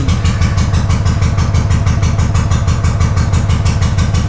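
A Honda GL500 motorcycle engine runs after being restarted following a long idle spell, a loud, close, evenly pulsing idle with a steady thumping rhythm and no talking.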